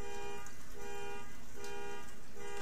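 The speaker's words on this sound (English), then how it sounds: "horn beeping outside" A car horn outside sounds in repeated steady toots, about three pulses with short gaps, moderately loud and heard alone.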